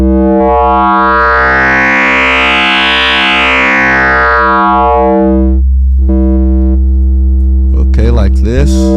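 A granular synthesizer layered with FM produces a loud, sustained, buzzing drone with pitch sweeps that rise and fall, washed in reverb, shifting to a steadier hum before a brief voice near the end.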